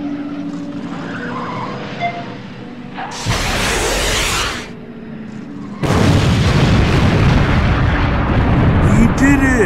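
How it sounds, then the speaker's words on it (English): A missile launch in a film scene: a sudden loud whooshing blast cuts in, drops back, then a heavy roaring explosion with rumble fills the rest, alongside a dense soundtrack. "Launch the missile!"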